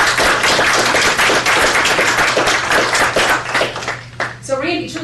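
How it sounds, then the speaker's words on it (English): A room of attendees at a board of trustees meeting gives a round of applause, loud and sustained over a low electrical hum, then tapering to a few claps as a voice comes in. "And so they deserve a round of applause."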